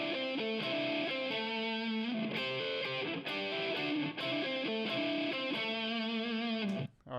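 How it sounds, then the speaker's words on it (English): Heavily distorted electric guitar plays a melodic riff with sustained, gritty notes, loud and continuous before cutting off abruptly at the end. "And with some distortion, it sounds wicked."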